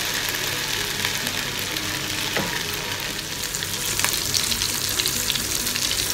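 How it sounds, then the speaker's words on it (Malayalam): Curry leaves sizzle loudly in hot oil in a pan, a dense continuous frying hiss with a few sharp crackles and pops, close and steady throughout. "കുറച്ച് കറിവേപ്പില ഇട്ട് കൊടുക്കാം."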